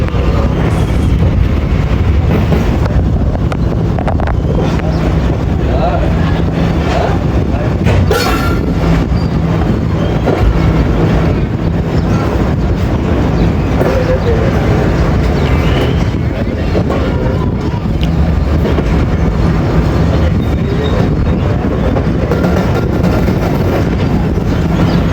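A Shalimar Express train rumbles past nearby, a loud, steady rolling roar of railcars and wheels on track lasting throughout, with faint clicks and screeches mixed in.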